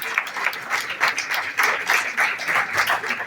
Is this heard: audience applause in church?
yes